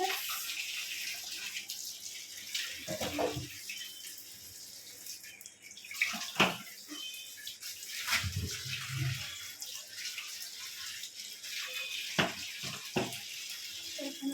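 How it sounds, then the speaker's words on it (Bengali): Fruit being washed under running water from a tap during preparations for an Akshaya Tritiya puja at home, a steady stream with intermittent splashes and handling clatter, fairly close. "তাই ফলটা বার করে রাখছি বার করে মানে ধুয়ে রাখছি"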